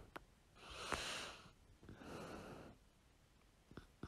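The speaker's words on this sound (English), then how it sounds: "I think I just heard you snore." A person dozing off and snoring, with two long, soft, raspy breaths drawn in a slow rhythm and a few faint snorts between them, close and quiet.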